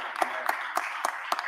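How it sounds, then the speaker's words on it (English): Audience applause greeting a guest at an open panel discussion, a dense wash of clapping with sharper individual claps standing out about every quarter second, steady and moderately loud throughout. "Please give him a round of applause."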